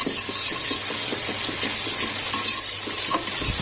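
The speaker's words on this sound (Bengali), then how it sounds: "এখন মশলাটা ভালো করে কষিয়ে নেব।" A spice paste of ground coriander, cumin, turmeric and chili powder fries in a pan, with a close, steady sizzle under repeated scraping strokes of a stirring spoon and no talking.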